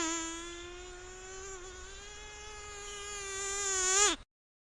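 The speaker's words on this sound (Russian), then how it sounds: "комар" A mosquito whines in a thin, continuous high-pitched drone for about four seconds, swelling slightly louder near the end before cutting off abruptly, heard alone.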